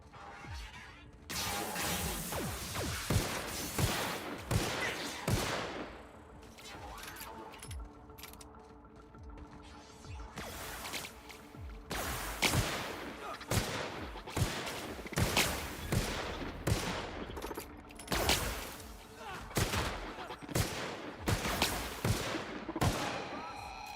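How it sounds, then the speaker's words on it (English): Gunfire from enemies in The Outer Worlds video game, with repeated sharp bursts of shots at varying rhythm over about twenty seconds, loud and close, mixed with game sounds and brief spoken voice. "What the hell is shooting at me?"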